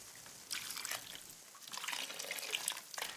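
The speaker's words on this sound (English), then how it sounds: "A little bit of pureed tomato sauce. This is more to give it a bit of color. Give it a good mix. And now some vegetable broth." Vegetable broth pours into a pot of pureed tomato sauce, a soft, steady liquid trickle and splash that starts partway in and continues faintly, close up, with no talk.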